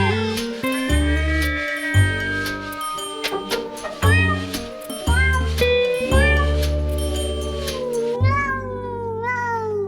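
A cat's meows sound loud and repeated over a tonal musical bed in the intro to a podcast about cats, with clear, high, sliding cries throughout.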